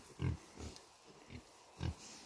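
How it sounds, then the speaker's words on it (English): Piglets on a small farm oinking in a few short, low grunting bursts, fairly close, with a quiet pause between them and no talking. "I'll just observe these piglets."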